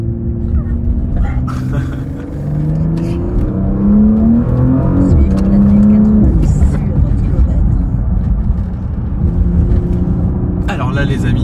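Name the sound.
Porsche Panamera e-hybrid Sport Turismo car driving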